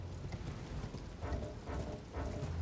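Horse hoofbeats while riding in Elden Ring, soft rhythmic clip-clop thuds repeating under a muffled game background, fairly faint and without talking.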